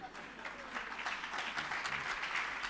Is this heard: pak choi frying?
no